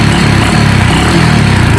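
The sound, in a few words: motorcycle engine revving with throttle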